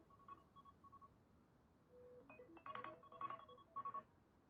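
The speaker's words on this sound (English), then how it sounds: "That was my alarm going off." A phone alarm going off right beside a microphone, heard as faint, scattered electronic beeps and short tonal chirps that cluster into quick bursts toward the end, with no talking.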